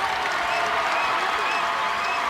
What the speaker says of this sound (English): And the applause for Faith Doot as she rises to walk.